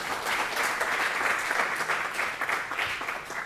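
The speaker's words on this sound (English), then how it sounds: "So please give it a round of applause." A conference audience at a university event applauds steadily, dense continuous clapping throughout with no talk over it.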